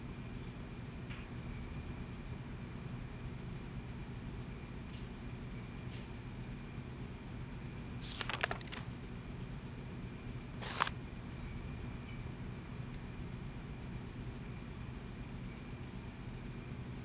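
A train running in the video game Syberia gives a constant low rumble with a few sharp metallic clicks and clacks breaking through near the middle.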